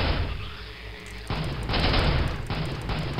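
Rapid gunfire and blasts in the first-person shooter Soldier of Fortune, dense bursts of shots with loud booming hits, heavy and continuous, with no talking.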